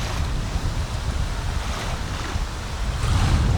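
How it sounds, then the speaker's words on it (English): Choppy lake waves slap and wash steadily against the side of a paddled canoe off a Temagami, Ontario shoreline in fall, with gusting wind over a continuous roar and no talk. "And these waves are killer."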